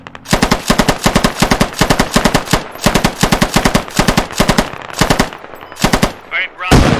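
A machine gun fires in the tactical shooter game Squad, loud rapid bursts of close gunfire in tight repeated volleys with brief gaps between them, ending with a heavier final blast.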